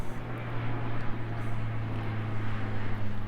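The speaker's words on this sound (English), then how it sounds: "we have a plane going overhead right now, interrupting my video" A propeller airplane passes overhead, a steady low drone with a broad rushing wash that holds fairly loud and even throughout, with no talking.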